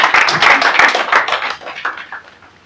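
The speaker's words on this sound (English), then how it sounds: "Let me clap your hands together again for her." An audience claps hands together at a talk about relief from itching and breast pain, a loud dense burst that gradually thins and fades over a few seconds.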